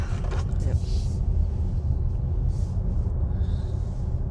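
Volkswagen ID.5 GTX electric car on the move, a steady low road rumble and tyre roar continuing throughout, with faint voices murmuring now and then over the cabin noise.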